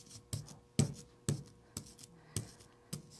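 Close, wet smacking rolls of a roller in overly wet block-printing ink repeat about every half second, each a sticky slap followed by a brief crackle, with no voices.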